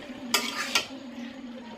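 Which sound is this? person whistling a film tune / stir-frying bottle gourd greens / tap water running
stir-frying bottle gourd greens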